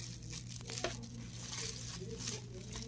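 Plastic cling film (saran wrap) crinkles and tears in a few soft bursts, handled close by during a biology demonstration of serous membranes, over a steady low hum.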